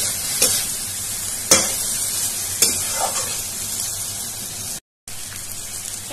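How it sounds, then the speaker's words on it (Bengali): Tengra fish sautéing in a spice masala, a continuous bright sizzle with three sharp spatula knocks and a short moment of dead silence near the end. "মাছগুলি দিয়ে ভালোভাবে একটু কষিয়ে নিব।"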